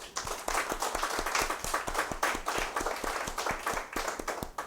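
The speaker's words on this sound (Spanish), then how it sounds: "a quienes nos siguieron en vivo, a los que están presentes también un aplauso para ustedes" An audience applauding at a live talk on cancer and Ganoderma, steady dense clapping from many hands at moderate distance, sustained for several seconds.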